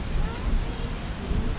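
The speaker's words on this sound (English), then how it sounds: "The sea was being flattened by the raindrops." Heavy rain pours down in a thunderstorm while sailing off Thailand in strong wind, a dense steady roar of drops flattening the sea, with low rumbling beneath and no clear talk.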